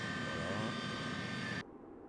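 Tupolev Tu-154M thrust reversers deployed on the landing roll, a loud, steady jet roar that cuts off abruptly after about a second and a half, leaving a lower residual engine rumble.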